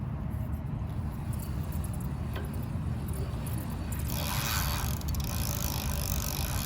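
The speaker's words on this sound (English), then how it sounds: "here's the drivetrain without any electric assist" Kakuka K70 e-bike drivetrain turning under pedal power alone with no electric assist, a steady low mechanical whir and rumble with a faint scraping hiss that grows a little brighter toward the end.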